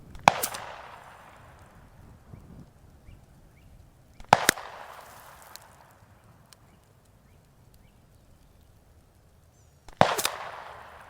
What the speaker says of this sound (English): Heritage Rough Rider 22 Magnum.